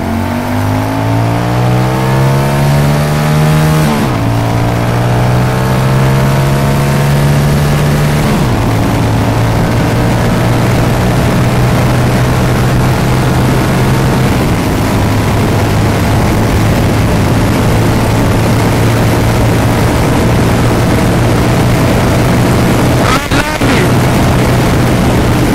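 A motorcycle at full throttle toward 100 mph, its engine note loud and continuous, climbing in pitch and dropping back with each gear change several times.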